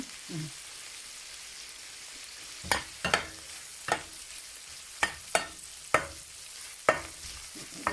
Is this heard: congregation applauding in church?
no